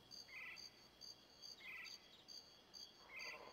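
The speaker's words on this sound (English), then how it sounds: "Crickets." Crickets chirp in the jungle level of the Goldeneye 007 video game, faint high-pitched trills repeating at an even rhythm about every second and a half against a quiet background.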